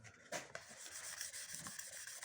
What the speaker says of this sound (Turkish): sadece kağıdın kendi ağırlığıyla sürtüyoruz.